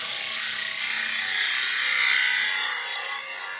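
A skew chisel cuts the underside of a small wooden Christmas ornament spinning on a lathe. It makes a close, continuous hissing shave that holds steady and eases slightly toward the end, with no talk.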